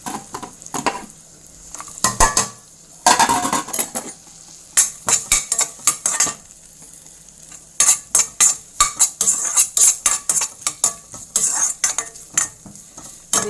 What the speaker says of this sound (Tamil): தேங்காய் போட்டு நல்லா ரோஸ்ட் ஆகட்டும்